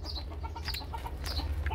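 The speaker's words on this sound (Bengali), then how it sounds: "এখানে রয়েছে চীনাহাঁস, রাজহাঁস" Chinese geese and swans in a date garden give short, repeated honking calls over a steady background, fairly close and moderately loud.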